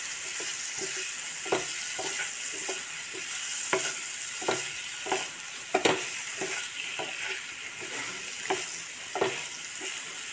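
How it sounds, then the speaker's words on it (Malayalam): Quail egg roast with a splash of coconut oil gets stirred in a pan: a soft frying hiss under a string of light spatula scrapes and taps, roughly one every second, close and fairly quiet. "എന്നിട്ട് നല്ല പോലെ ഇളക്കി കൊടുക്കാം"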